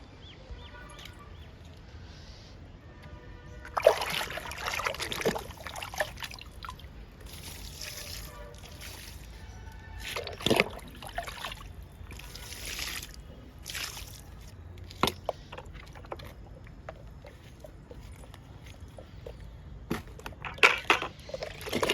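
Water splashes and trickles onto fertilized tomato plants growing in tubs, in irregular crunchy bursts from a few seconds in, fairly close, with a voice talking now and then.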